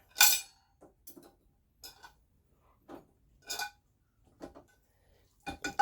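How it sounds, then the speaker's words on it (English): Metal silverware clinks as it is set into a compact dish rack in an RV kitchen, a string of short, separate clatters and chinks spaced across the moment, close and fairly quiet. "Silverware goes up here."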